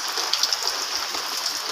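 Rain falling steadily, a soft hiss with scattered light drops pattering close by.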